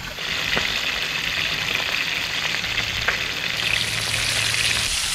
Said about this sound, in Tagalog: Ibrito na ako ng isda.